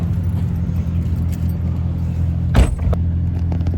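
Inside a moving truck, a steady low engine and road rumble continues throughout, with a brief rattle or thump partway through and no talking.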